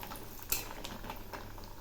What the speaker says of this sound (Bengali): এখন আমি ওই তেলে কয়েকটা ডালের বড়ি ভেজে নিচ্ছি